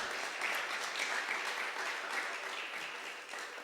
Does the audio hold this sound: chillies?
no